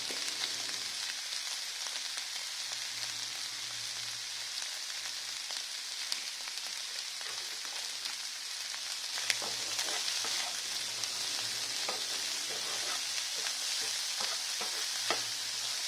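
Sprouts roast in a pan over a medium flame, producing a soft, even sizzle with occasional stirring scrapes and light clicks, fairly quiet and without speech.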